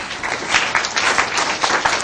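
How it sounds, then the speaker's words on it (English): An audience at a talk gives a round of applause to welcome a guest speaker, with dense, steady clapping from many hands filling about two seconds. "Would you please give a round of applause for Kristin Murdock?"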